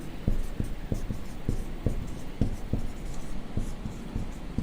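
Chalk or marker tapping and scratching on a board as a teacher writes, a series of short sharp taps at uneven intervals over a low room hum, no talking.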